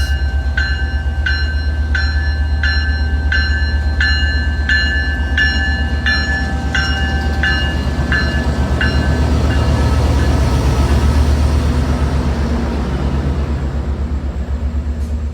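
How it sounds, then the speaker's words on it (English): A 10-car GO passenger train rumbles steadily past nearby, its wheels clicking rhythmically over rail joints as the cars roll by for a long stretch. "The London GO train has 10 passenger cars."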